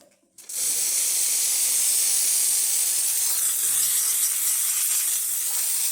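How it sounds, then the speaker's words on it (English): After a brief moment of quiet, a loud steady steam hiss starts from a Lelit Mara X espresso machine's steam wand and continues unbroken, close and constant. "Let's do the hot water, actually the steam first"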